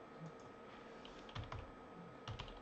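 Quick bursts of keystrokes on a computer keyboard as a folder path is typed, a few clustered clicks over a steady background hum, fairly faint and close.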